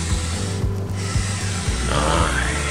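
A van kitchen drawer mounted on wheels rolls out along its rails, giving a steady low rumbling and rattling roll with a few small knocks and no talk.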